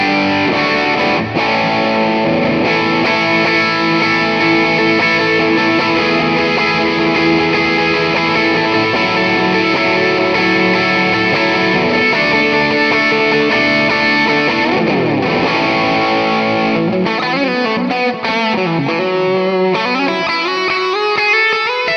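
A high-gain distorted electric guitar played through a Valeton GP5 loaded with a NAM capture rings out continuously, thick sustained chords and riffs with sliding notes, loud and close, with no voices.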